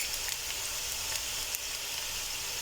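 Cumin seeds sizzling in hot oil over softened onions in a pan for potato stew, a dense, steady hiss with a few faint crackles, close by and continuous.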